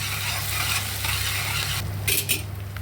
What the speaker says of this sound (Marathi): आता हे परतून घेऊ थोडंसं। कांदा खूप जास्तही तांबूस नाही हो जायचा, हलकासा थोडासा तेलामध्ये फ्राय करून घ्यायचं।